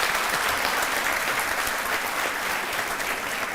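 Studio audience on a televised courtroom-style talk show clapping together in a steady, dense burst of applause that holds evenly from start to finish.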